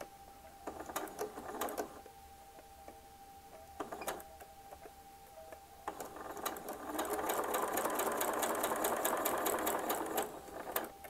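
A sewing machine stitches a quilt block with the fabric held by pins or clips, sounding in short bursts of rapid mechanical clatter with pauses, then a longer steady run of stitching.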